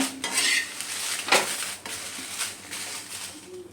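A metal spatula scrapes and clinks against a pan while dry red chillies roast, giving several sharp irregular scrapes over a faint sizzle, close and clear with no talking.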